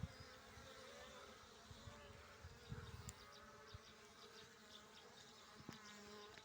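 Steady, dense buzzing of many worker honeybees close by at a hive as they return with pollen and nectar, a continuous drone with individual bees flitting past now and then.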